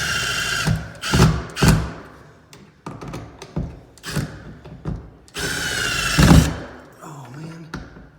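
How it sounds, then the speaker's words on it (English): A cordless drill drives screws to fix a shallow outlet box into a new kitchen island, in several short whirring bursts with thunks and handling sounds between them, loud and close. "And on this one, I use the cordless. So then you screw it in."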